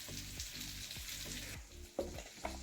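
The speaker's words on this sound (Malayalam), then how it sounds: "തക്കാളി വെണ്ടയ്ക്ക നന്നായിട്ട് വഴറ്റി വന്നു." Tomato and okra sauté in a pan, a steady bright sizzle with a few stirring clatters and two sharper spatula knocks near the end, close and fairly loud, with no talking.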